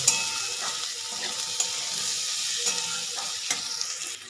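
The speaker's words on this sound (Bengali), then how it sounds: "আমলকিগুলোকে খুব ভালো করে একটু ভেজে নেবো" Indian gooseberries (amla) frying in a pan for pickle give a steady, close sizzle with soft scattered stirring clicks and no talk.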